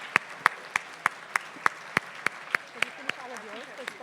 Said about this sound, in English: let's give another round of applause for the recipients of the awards in Spokane